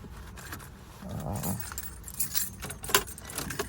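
Keys jingle and clink in a pocket in a few quick metallic bursts, close by, over the low rumbling of an idling Subaru WRX STI.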